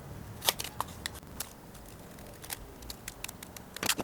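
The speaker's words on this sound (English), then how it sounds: "this little pattern, which you can just cut out with obscenely large shears" Obscenely large shears snip through a paper pattern in a car workshop, a few faint, sharp cuts and rustles scattered over a quiet background.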